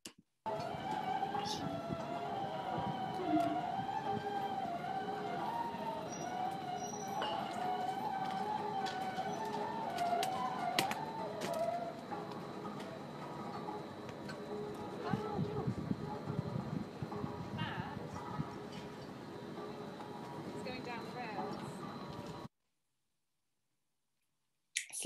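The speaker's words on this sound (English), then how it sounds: "you get to hear the actual slipway first" A patent slipway gives a long, continuous metallic groaning and squealing drone with shifting high-pitched tones and occasional clicks, sustained for over twenty seconds before cutting out.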